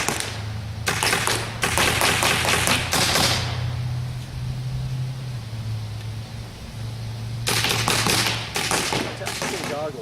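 Rounds from a paintball-style launcher go off in quick bursts of sharp, rapid taps at a D-Day 2013 paintball event, clustered in short volleys separated by a low steady hum and brief pauses.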